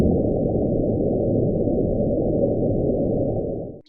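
Mysterious low-frequency underwater sound from deep in the Pacific Ocean, recorded in 1999, heard as a steady, dense rumbling drone that continues alone for nearly four seconds before fading out at the end.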